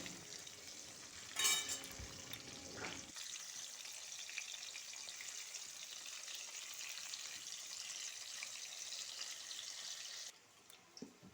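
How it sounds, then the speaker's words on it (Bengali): Potato pieces frying in hot oil in a kadai for a Bengali chicken and potato curry: a steady, moderately loud broadband sizzle holds for most of the span after a brief clattering burst, then cuts down near the end. "এবার খুব ভালোভাবে আমরা আলুটাকে ভেজে নেবো"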